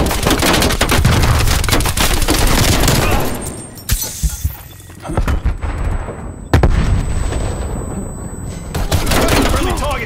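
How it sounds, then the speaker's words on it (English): A video game battle roars with loud, dense gunfire and blasts from a thrown grenade and a cruise missile, falling briefly quieter between heavy bursts, with faint in-game voice callouts. "Throwing grenade. Cruise missile awaiting deployment."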